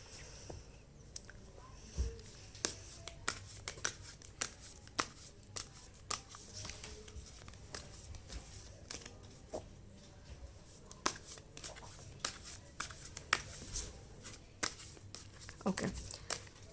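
Tarot cards being shuffled, heard as a run of soft, irregular slaps and riffles close by, with quiet talk in the background.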